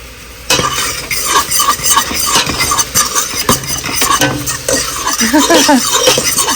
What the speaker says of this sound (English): I'm going to cook it just a little bit more so the syrup sticks on it more.